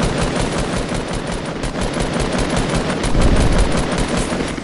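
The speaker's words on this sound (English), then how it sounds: "I'm gonna start shooting the crystal up." Rapid, continuous automatic gunfire rattles without pause in Fortnite as a player shoots at a crystal, loud and dense throughout with no talking.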